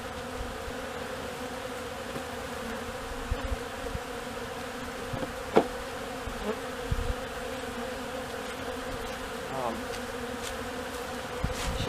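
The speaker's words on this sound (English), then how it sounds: "It was some bees in that very top one." Bees buzz around a collapsed colony in a hive box, a steady close drone of many wings with a few louder passes near the ear and occasional handling knocks.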